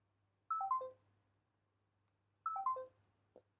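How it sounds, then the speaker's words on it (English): A Microsoft XDA Atom Life phone plays its notification tone twice, each a short descending cluster of bright electronic notes, clear and close in a quiet room with a faint hum underneath. "There's the notification sound."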